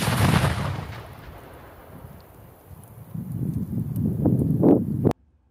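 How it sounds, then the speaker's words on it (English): A Coke-bottle shaped charge of composite liquid explosive detonates against a steel plate outdoors: a sharp blast at the start, then rolling rumble and wind before an abrupt cutoff. "The charge detonated with an impressive blast"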